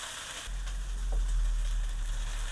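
Aromatics sautéing in a hot pan with only salt for seasoning, a steady close sizzle that starts abruptly and continues evenly throughout with no talking.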